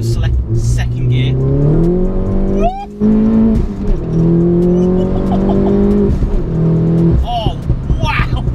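A 300 bhp Mini John Cooper Works R56 accelerates hard in second gear on a country road, its engine note climbing loud and close, with a brief break before it pulls again and a voice talking over it.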